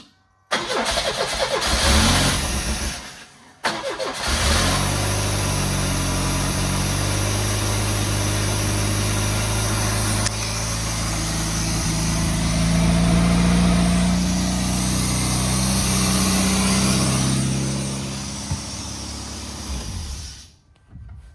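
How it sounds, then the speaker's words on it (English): A project car's engine cranks briefly, cuts out, then fires up and settles into a steady, loud mid-pitched idle with a few slight revs, close by and alone for about twenty seconds. "if I go turn that key, this car is going to start."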